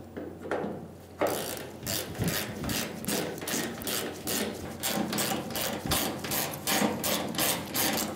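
A hand ratchet snugs down bolts on the tailgate of a 1988-1999 GMC K1500 pickup, giving a close, steady run of rhythmic rasping clicks that barely pauses.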